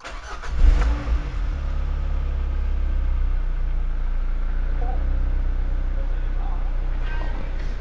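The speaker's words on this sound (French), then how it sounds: "Ouais, mais elle a vachement mieux démarré que les autres fois. Elle tourne rond." A Peugeot 206 CC S16 engine turns over and catches with a brief rev, then settles into a smooth, even idle with a low steady hum, close by while people chat over it.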